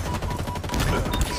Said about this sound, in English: the sound of the guy shooting at me, though